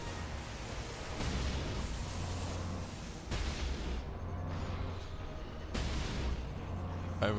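A laser cannon fires in the video game Warhammer 40,000: Space Marine, with booming blasts rising out of dense, continuous battle noise and a low rumble, repeating every couple of seconds.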